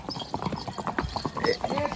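Horse hooves clip-clopping at a walk during a ride to a viewpoint, a close, uneven run of hollow clops with a voice talking over them.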